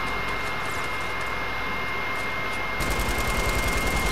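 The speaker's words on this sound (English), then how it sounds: "why are you shooting at me?" Gunfire in the battle royale game Fortnite, a dense rattling burst of rapid shots that sharpens and grows louder partway through, with a roaring engine-like wash behind it.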